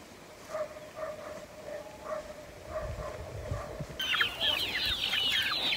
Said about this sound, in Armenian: հավս կչկչում ա